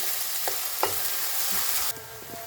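Onion and garlic frying on a high gas flame for a paneer sweetcorn capsicum dish, a bright, constant sizzle with a couple of stirring knocks, easing slightly near the end.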